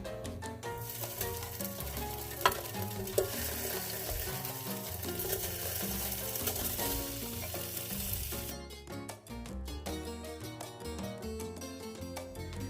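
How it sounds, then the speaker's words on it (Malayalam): Tofu fries in oil in a pan with a steady, dense sizzle that runs throughout, broken by a couple of sharp spatula taps and stirring scrapes and a brief dip where the crackle thins out. "ചെറുതായിട്ടൊന്ന് വറുത്തെടുക്കാം."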